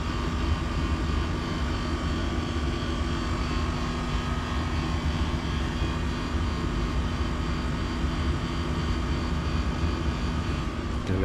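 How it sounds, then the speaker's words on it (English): An electric motor drives a pump in a continuous, loud, steady drone with a dense broadband roar and a faint constant hum, running unchanged throughout without any talk. "There's no point heating up this motor anymore"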